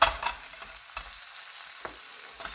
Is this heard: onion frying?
yes